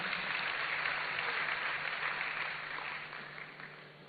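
Steady, fairly faint applause from an audience at a university launch event, a dense wash of many hands clapping together that gradually tapers off toward the end.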